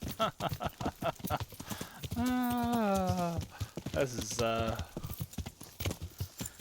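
Rapid hoofbeats of a horse in the video game Kingdom Come: Deliverance clatter in a steady galloping rhythm while someone talks over them, his voice rising into drawn-out exclamations.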